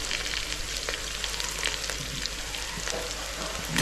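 Onions and vegetables, including beetroot, fry in a pan with a quiet, steady sizzle and faint stirring scrapes, and no talking.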